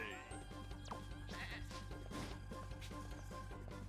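A sheep bleats in a paladin-themed fantasy video game, a short bleat cutting through steady game music and busy effects.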